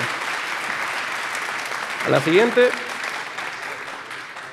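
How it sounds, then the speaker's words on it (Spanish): An audience at a financial markets talk applauds in a continuous wash of clapping, with someone briefly speaking over it midway. "un aplauso para Domenech"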